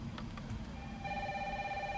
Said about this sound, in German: Ah, da ist das Telefon, ja klar.